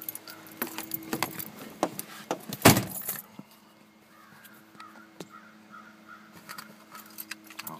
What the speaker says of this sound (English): Oh, there's my key.